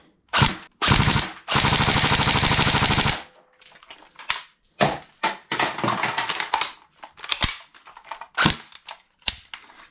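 A Tokyo Marui AK Storm NGRS airsoft rifle fires loud, close full-auto bursts: two short bursts, then a long continuous rattling stream, then a string of shorter choppy bursts separated by brief pauses.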